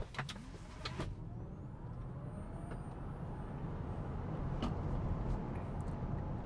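A Tesla electric car in sport mode accelerates from 0 to 60 mph in about four seconds on 19-inch wheels. A faint motor whine rises steadily in pitch over a broad, rumbling road and wind noise that builds throughout.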